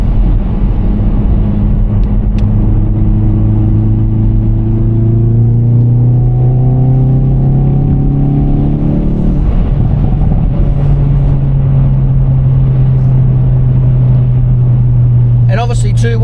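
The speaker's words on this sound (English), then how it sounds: "the sound in this car is incredible" Engine and exhaust note of a 2024 Hyundai i30N hatch while driving, a loud, steady drone that rises in pitch as the car accelerates through gears, heard from inside the cabin.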